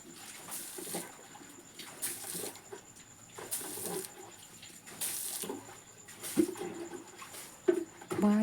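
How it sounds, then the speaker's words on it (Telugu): Water is splashed by hand onto the ground in front of a village house, with repeated soft splashes about every second or so and faint birds in the background. "అందుకని ఉన్న నీళ్ళతోటే చల్లుకుంటాం. ఇది మాది కల్లాపు అంటారు."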